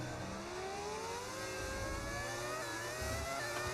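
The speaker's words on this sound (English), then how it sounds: "Why do I hear an engine behind me? It's because there's a car behind me." Formula 1 car engines in the video game F1 25 whine and rev at a distance, rising pitch lines sweeping past under a steady mechanical hum, fairly faint.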